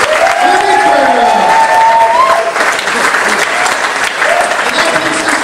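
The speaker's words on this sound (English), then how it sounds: "so we give them one round of applause" Audience applause at a high school Mr. T talent competition, a dense, steady wash of clapping throughout with some crowd voices and cheering mixed in.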